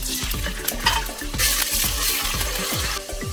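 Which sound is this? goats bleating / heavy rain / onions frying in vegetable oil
onions frying in vegetable oil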